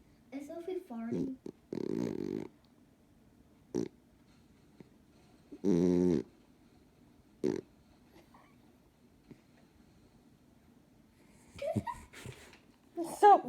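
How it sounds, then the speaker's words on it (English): A sleeping dog snoring indoors, several short rasping snorts and grunts spaced irregularly apart over quiet background, with someone speaking in between. "you are snoring"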